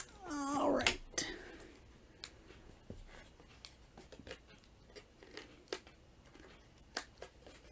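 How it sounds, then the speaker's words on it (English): Scissors snip through glue-coated paper in a series of sparse, quiet clicks and cuts, following a brief cat meow at the start. "Go ahead and snip this off."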